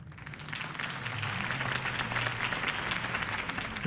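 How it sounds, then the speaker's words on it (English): Crowd applause in the Batman: The Telltale Series video game, a steady wash of clapping that follows a campaign speech for Harvey Dent, held at an even level throughout with a faint low hum underneath. "could have heard that applause"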